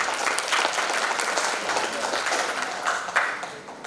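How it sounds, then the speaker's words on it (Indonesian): Sustained audience applause fills an indoor ceremonial gathering, dense steady clapping from many hands that tapers off near the end. "Kita kasih aplaus kepada beliau."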